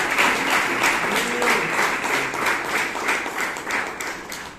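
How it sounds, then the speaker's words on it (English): An audience at a Toastmasters club meeting in Bangalore applauds steadily, a dense, sustained round of clapping that carries evenly through the whole stretch with no talk over it. "So please give Priyanka a big round of applause"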